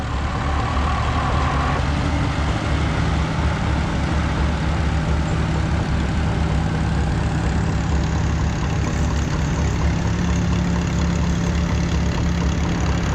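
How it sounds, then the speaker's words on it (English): A 1947 Oliver 60 row crop tractor rolls past in a threshing-show parade, its engine a steady, fairly close low rumble with even idle-speed chugging and no break in the sound. "Next we've got an Oliver 60 row crop."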